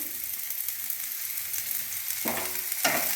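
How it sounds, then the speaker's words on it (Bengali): Chopped onion hits hot white oil and frying noise swells steadily, a continuous broadband hiss that is close and moderately loud, with a couple of louder bursts near the end as the pieces are moved around the pan. No one speaks. "এবার তেল গরম হয়ে গেছে, আমি এর মধ্যে প্রথমেই পেঁয়াজ কুচি দিয়ে দিচ্ছি"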